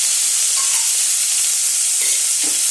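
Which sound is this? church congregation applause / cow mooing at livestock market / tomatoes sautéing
tomatoes sautéing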